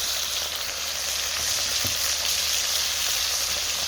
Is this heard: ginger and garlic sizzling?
yes